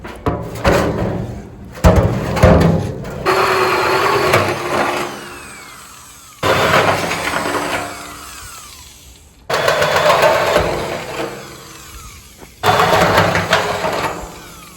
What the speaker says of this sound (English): As soon as that drill bit goes down through, this thing catches and it just eats right through that metal.